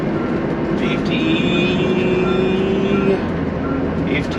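A 2006 Monaco Knight 40PLQ diesel pusher motorhome with a 330 Cummins diesel pulls hard under acceleration, a steady loud engine drone with rising whine, briefly easing near the end.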